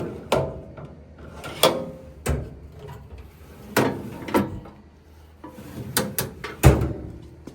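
Drawers of a green tool cart slide open and shut repeatedly, a run of sharp thuds and clacks with short rolling scrapes between them, fairly close and spaced irregularly, no talking.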